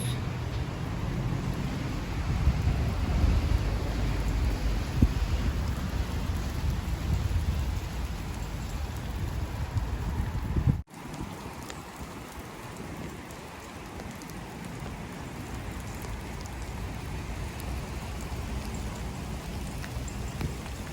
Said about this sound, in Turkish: Rahmet yağıyor resmen bakar mısınız?